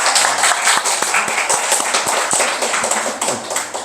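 A church congregation at a Sunday service applauds in welcome for guests from Germany. The clapping is close and fairly loud, with dense hand claps and a few sharper individual smacks throughout.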